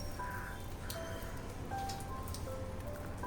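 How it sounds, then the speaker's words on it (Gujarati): Rain falling steadily outside a room in Goa, a soft, even hiss of drops on surfaces with occasional faint tones in the background. "અત્યારે વરસાદ ચાલુ થઈ ગયો છે"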